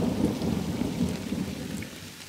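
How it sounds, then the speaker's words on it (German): A rain shower with a low rumble of thunder in the wilderness, a steady wash of falling rain under a deep, rolling roll that fades toward the end. "Widerlich, dass es jetzt regnet."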